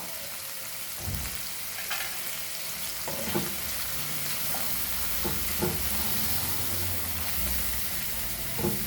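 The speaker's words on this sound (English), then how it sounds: "Fry for a few seconds" Turmeric powder fries in a pan for pomfret curry with a steady, close sizzle. A few soft spoon scrapes recur every second or so, and no voices are heard.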